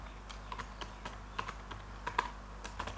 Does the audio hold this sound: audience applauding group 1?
no